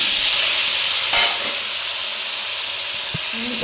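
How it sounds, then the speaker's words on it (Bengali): Pointed gourd and potato pieces sizzle in hot oil while being fried for a fish curry, a loud, steady close hiss with a brief stir near the start and a soft clink later. "তেলের মধ্যে আমি পটল আলুগুলো সব ছেড়ে দিলাম"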